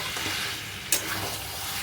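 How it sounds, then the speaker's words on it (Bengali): Mutton and tomato sautéing in oil in a pan for a Bengali mutton curry, a steady close sizzle with one brief stir of the spoon. "মাংসটা কষে যাচ্ছে, দেখো একদম তেল ছেড়ে এসেছে"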